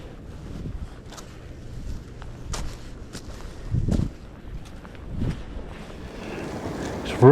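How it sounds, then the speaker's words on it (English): Strong cold wind buffets a microphone outdoors on a steep hiking trail, coming in rumbling gusts that swell and fade over a constant rushing background, with no one speaking. "It's really cold and windy."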